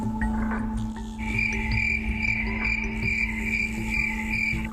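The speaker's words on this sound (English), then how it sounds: "And there's the crickets." Crickets chirp steadily as a sound effect, a continuous high pulsing trill layered over other night insect and frog-like calls, loud and close throughout.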